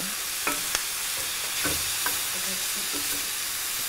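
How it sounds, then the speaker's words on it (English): Shrimp sizzle in a hot pan while a utensil keeps moving them around, a steady fizzing hiss broken by several sharp scraping and tapping strokes up close. "Yeah, I just keep moving them around."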